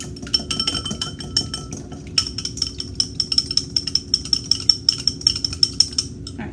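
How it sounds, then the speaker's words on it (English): A raw egg is whisked briskly in a bowl, a fast run of light clinking taps with a regular beat after a short pause. "I'm going to whisk this up."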